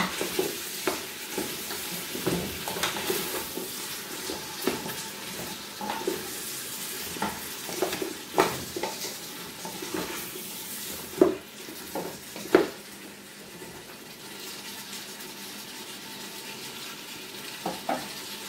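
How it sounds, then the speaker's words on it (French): Carrots and chickpeas get stirred in a sizzling pan, a steady close fry hiss broken by irregular scrapes and clicks of the spoon against the pan, with a few sharper knocks. "Après, je vais rajouter les carottes, les pois chiches. Et je mélange."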